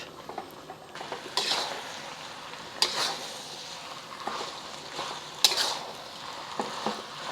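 Rice noodles and beef in gravy being stir-fried in a pan, a steady sizzle under repeated scraping and clanking of a utensil against the pan, with louder strokes every second or two.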